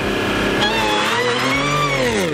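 A supercharged car engine revs hard, its rising and falling harmonics joined by a steady high supercharger whine, loud and close with no talking.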